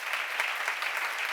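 Audience applause at a church seminar on the Gospel of John, a steady, dense wash of many hands clapping together, moderately near and continuing evenly throughout without a break.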